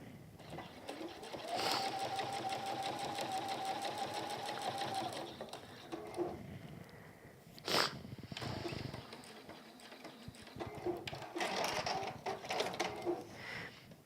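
A sewing machine runs in long steady bursts of rapid stitching while making a hexagon needle keep, with pauses between runs and a few clicks and knocks of handling, close and clear.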